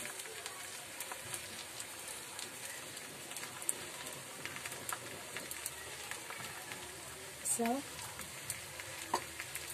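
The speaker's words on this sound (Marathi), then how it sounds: "आता मी ही साईड त्या साईडवर परतणार आहे." A ghavan, a thin rice crepe spread with jaggery, fries in a pan with a steady low sizzle while it is flipped, and a brief scrape of the turner sounds near the end. No one speaks.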